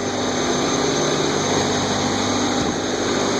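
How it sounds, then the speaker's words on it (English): Steam turbines, high and low pressure units driving a self-excited synchronous generator, running in a power plant: a loud, steady broadband whine and hum with constant tones, continuous throughout. "This is high pressure turbine, this is low pressure turbine."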